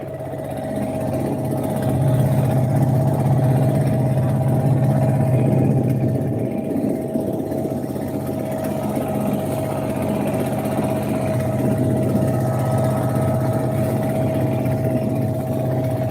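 A boat engine running on the Karnaphuli river, a steady close-up low drone with a constant hum and no breaks.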